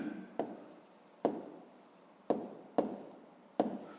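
Handwriting on paper while working a fifth-grade maths exercise, five sharp pen-stroke scratches at uneven intervals, each fading quickly, close up and quiet with no talking.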